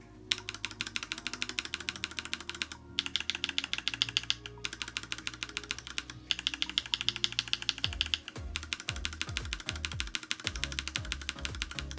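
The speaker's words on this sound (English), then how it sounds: "Here are the Mint linears. These are the Aquamarines." Mint linear and Aquamarine mechanical keyboard switches are typed on in quick succession, a steady patter of soft, close key clacks with brief pauses between bursts, then a few heavier thocks near the end.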